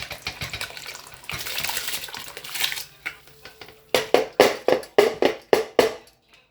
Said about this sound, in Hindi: अब हम इसमें चावल जो है वो ऐड कर देंगे।